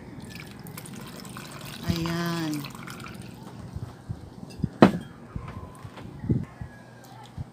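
Cucumber lemonade ingredients and water go into a blender, with a short gush of pouring and a few clunks and drips under brief speech.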